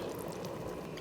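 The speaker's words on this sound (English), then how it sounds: "In go all the clams, drained" Drained clams slide into a pot of keto clam chowder with a soft, brief, wet pouring splash, heard quietly and alone.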